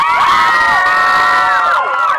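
A crowd cheers and whoops loudly at a high school senior night, with high children's shouts rising over the noise in a short, energetic burst.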